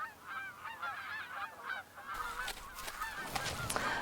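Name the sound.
Canada geese honking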